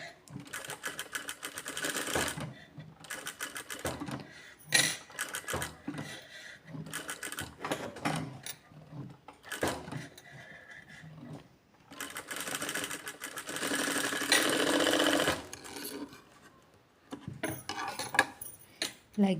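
Sewing machine stitching practice curves on fabric in several separate bursts of close, rapid mechanical chatter, with pauses, clicks and handling noises between runs.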